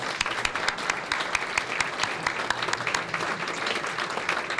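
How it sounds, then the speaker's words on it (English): A seated audience at a Lamar University merit awards and retirees ceremony applauds as regents and professors stand, with steady, dense clapping that fills the room throughout and no talk over it. "at this time I would like for them to stand and receive our applause"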